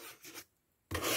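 A selenite crystal is rubbed softly in short, close scratchy strokes, a brief quiet pause between passes, in a hushed ASMR setting.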